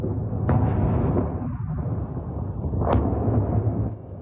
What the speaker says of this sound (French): Une fois de plus, le bruit sourd des explosions.